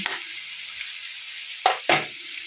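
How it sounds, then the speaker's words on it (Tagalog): Chicken pastel filling being stir-fried in a pan over raised heat, a steady close sizzle with a few sharp scraping bursts of stirring, and no one talking. "Medyo lakasan natin ng konti yung apoy. At least, sangag-sangag lang natin."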